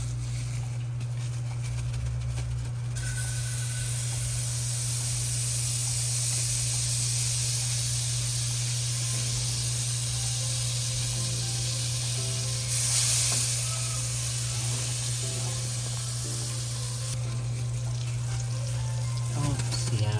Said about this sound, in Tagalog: Papainit na po tayo ng kawali. Okay na. Ayan, at ilalagay na po natin itong mantikilya.